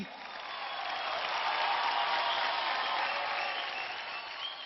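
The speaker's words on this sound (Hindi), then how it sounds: "इन सबके लिए जोरदार ताली." Steady audience applause fills an India's Got Talent talent-show stage after the performers finish, a dense, sustained roar of clapping hands that swells gently and holds for several seconds with no talk over it.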